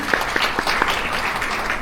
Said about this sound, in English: A big round of applause everyone.